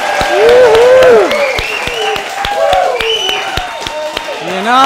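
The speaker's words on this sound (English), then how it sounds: "Your applause was very generous." A studio audience applauds and cheers for the host of a local tonight show, with dense clapping and whoops that continue throughout, loud and close, with voices calling out over it.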